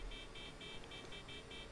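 A convertible car's horn toots in a quick run of about seven evenly spaced, short beeps, faint and a little distant over a low traffic hum.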